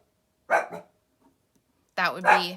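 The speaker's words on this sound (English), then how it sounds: "there's a lot of dogs in my house, and they are all barking at something outside" Several dogs barking inside a house, two short bursts of barks close by, overlapping a person speaking.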